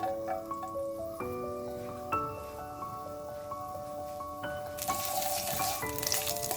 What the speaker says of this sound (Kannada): ಈಗ ಒಂದು ಅರ್ಧ ಸ್ಪೂನಷ್ಟು ಗಾರ್ಲಿಕ್ನ ಈ ಎಣ್ಣೆ ಏನು ಕಾಯಕ್ಕೆ ಇಟ್ಟಿದ್ದೀನಿ ಅದಕ್ಕೆ ಹಾಕ್ಕೊಳ್ತಾ ಇದ್ದೀನಿ.